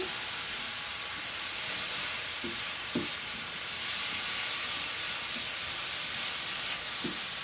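Boneless pork loin going back into a stir-fry for pork chow mein hisses in a steady, continuous sizzle with a few faint clinks from a utensil, no talk.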